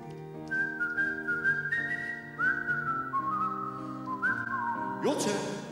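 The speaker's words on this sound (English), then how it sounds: "Wet your lips, you're gonna whistle in a second." An audience whistles a melody together at a tribute concert, a sustained group tune over steady backing music, ending with a brief louder burst of crowd noise.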